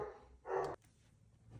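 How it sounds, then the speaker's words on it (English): A dog barks once in a single loud, close burst indoors, followed by quieter room noise and a faint second stir near the end. "my dog's barking"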